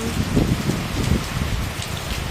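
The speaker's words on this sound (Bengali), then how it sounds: "দেখো আমাদের এখানে কি বৃষ্টি হইতে আছে, প্রচণ্ড বৃষ্টি হইতে আছে।" Heavy rain pours down steadily, a dense, close roar of drops drumming on surfaces with no breaks and no voices.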